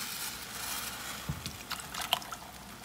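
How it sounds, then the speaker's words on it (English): Water is poured into a pot of canned chicken noodle soup, giving a soft, continuous liquid trickle with a few small splashes toward the end, fairly quiet and heard without any talking. "Now I'll just pour it"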